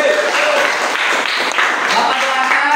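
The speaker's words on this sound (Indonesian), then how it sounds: "Tepuk tangan dulu." Classroom of students applauding together, a dense steady patter of many hands clapping at close range with a few voices mixed in, holding throughout at an even level.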